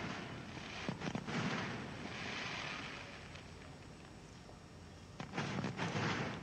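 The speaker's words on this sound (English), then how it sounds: "The inauguration concluded with spectacular fireworks display lighting up the night sky." Fireworks at a nighttime bridge inauguration: two separate bursts of booming, crackling blasts, one near the start and one toward the end, with a quieter stretch of rumble between them.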